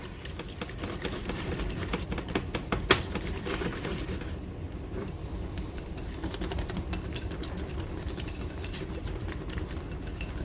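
Ingredients being whisked in a bowl while preparing a meal, giving a rapid, steady clatter of close clicking strokes that runs without pause and with no talking.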